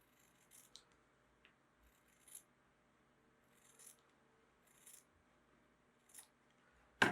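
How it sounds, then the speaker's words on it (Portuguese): Scissors snipping through sewn patchwork fabric pieces, several short separate cuts spaced about a second apart, quiet and close, with a louder bump at the end. "Venho aqui, olha, ela tá costurada, então eu venho e corto aqui."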